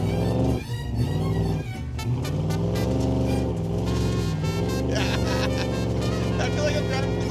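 A Ford Ranchero engine growls and revs while driving in snow, a loud, rough low-pitched drone rising and falling with throttle, with voices talking over it.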